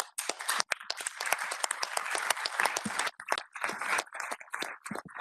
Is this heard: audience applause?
yes